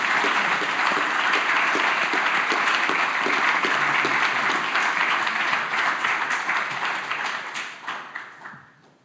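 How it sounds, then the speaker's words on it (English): Sustained applause from a theatre audience at the Anglo-Hellenic League Runciman Award ceremony, dense and steady clapping from a large crowd that gradually thins and fades out toward the end. "I think another round of applause."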